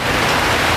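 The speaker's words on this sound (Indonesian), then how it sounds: "karena ini hujan" Steady, dense rain hissing across all frequencies, a constant close wash of drops with no pauses.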